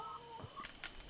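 Older backyard chickens about five feet away in a shady garden spot give a few short, soft clucks over quiet outdoor background.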